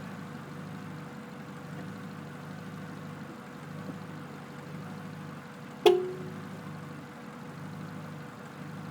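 A 1990–93 Honda Accord engine idles with a newly replaced power steering pump being primed, a steady low droning hum with a gentle rhythmic pulse and one sharp knock near the end.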